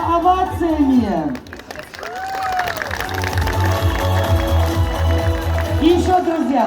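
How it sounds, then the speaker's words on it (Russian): An audience applauds, with clapping and crowd noise building behind a speaking host and some background music. "Давайте дружно одарим друг друга овациями."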